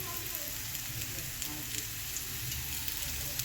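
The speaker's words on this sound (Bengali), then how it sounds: "এরপরে আলুগুলো দিয়ে দিয়েছি আলুগুলো ভাজা হচ্ছে" Potatoes fry in a pan with a steady close sizzle and bubbling, broken by faint crackles and pops throughout, with no talk over it.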